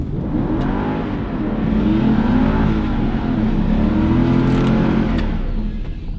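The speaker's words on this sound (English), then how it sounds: "I'm gonna try to do a burnout here." A Mercedes-Benz SL55 AMG, supercharged V8, roars steadily through a burnout at a drag race, a loud sustained engine rumble that swells in the middle and holds for several seconds with no talk.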